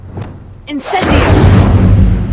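Incendio fire spell in Hogwarts Legacy goes off with a sharp cast and then a broad, sustained whooshing roar of flame, after a faint shimmering chime.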